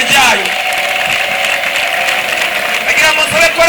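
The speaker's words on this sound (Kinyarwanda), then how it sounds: "Ukomere Imana amashyi cyane" A church congregation claps loudly and continuously, a dense burst of applause with some cheering, held for a few seconds at close range.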